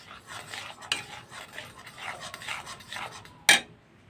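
Gentle stirring of Kashmiri alur dom, potatoes in yogurt with oil floating on top, in a pan: soft, close scraping and swishing strokes, quiet and steady, with a sharper clink of the spoon near the end.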